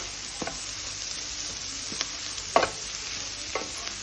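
Vegetables for veg fried rice are briefly stir-fried in a pan, with a soft, low sizzle and a few sharp scrapes and taps of the spatula spaced out over a few seconds.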